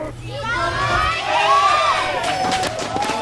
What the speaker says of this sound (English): Huge, huge cheer for MarineKing. The crowd is definitely backing him.